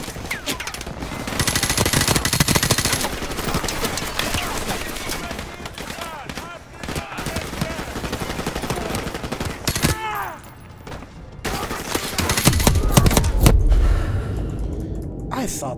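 Dense game gunfire from Modern Warfare Remastered crackles in rapid bursts and automatic strings, with short pauses and gasping breaths between volleys.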